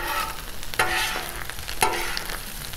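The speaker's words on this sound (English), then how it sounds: "let's get these eggs going on this" Eggs and chorizo fry on a 36-inch Blackstone griddle with a steady, close sizzle, broken by several sharp clacks of a spatula scraping and flipping across the hot steel surface, with no talking.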